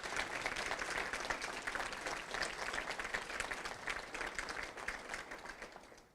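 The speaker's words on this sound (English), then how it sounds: "If we could please get one final applause for all of our outstanding students." A crowd at a Rotary Club career technical awards and scholarship event applauds outstanding students, a steady, fairly faint roll of many hands clapping that continues for about six seconds and trails off at the end.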